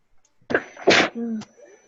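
A single sharp sneeze bursts out close to the microphone during an online team meeting, a short breathy intake followed by the explosive release, then a brief voice responding afterward.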